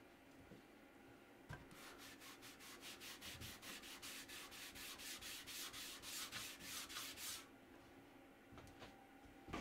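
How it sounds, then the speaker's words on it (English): Polish rubbed by hand onto a wooden open-back shelf, heard as a steady run of quick, rhythmic scrubbing strokes, close and fairly quiet, with a short pause before and after. "Just going to get this rubbed on, buffed off, and then I think we are done."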